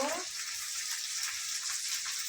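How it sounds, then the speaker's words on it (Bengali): Washed chicken pieces going into a pan of fried spices for a Bengali chicken kasha, giving a steady, moderately loud sizzle that runs throughout without pause. "এবার চিকেনটা দিয়ে দিব"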